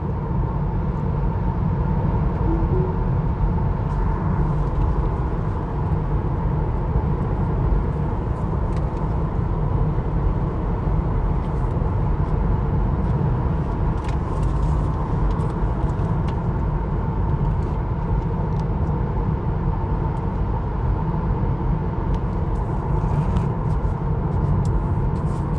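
Steady low road rumble and tyre noise inside a 2022 Tesla Model 3 Performance cruising on the road, a continuous even drone with no talk and only faint ticks and rattles.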